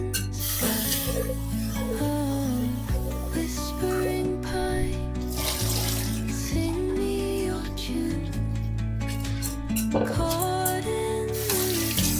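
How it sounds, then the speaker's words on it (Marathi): Lentils (dal) are rinsed under running water, a continuous close rush and spray of water with melodic sounds in the background. "दोन ते तीन पाण्यानं आपल्याला डाळ धुवून घ्यायची आहे"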